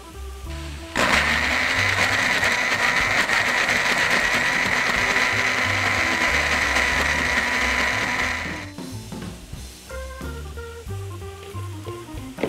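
A blender whirs loudly and steadily, chopping ginger and half an onion for a mustard-honey sauce, then cuts off abruptly, leaving quieter kitchen clatter.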